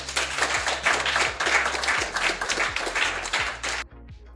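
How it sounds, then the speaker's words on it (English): A round of applause sound effect, a dense crackling wash of many clapping hands over low background music, running steadily for about four seconds before cutting off abruptly. "Class, I want a round of applause for our helpful teacher"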